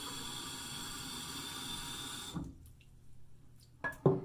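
Running water hisses steadily from a tap into a ceramic shaving cup, then cuts off, followed by a few quiet drips and small clinks.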